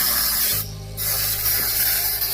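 Spray painting private jets: a steady, loud aerosol-like hiss that stops briefly after about half a second, then resumes as a continuous spray.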